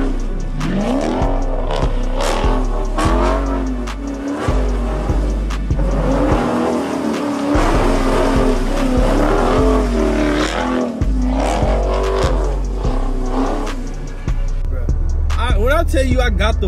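A car doing donuts at a gas station, with a loud, close engine revving hard in rising and falling surges, a steady low rumble beneath, and faint voices mixed in.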